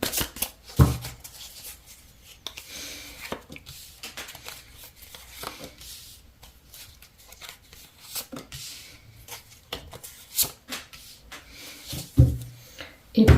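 Oracle cards being shuffled by hand, a series of soft papery riffles and slaps in irregular bursts, close and fairly quiet, with occasional handling knocks.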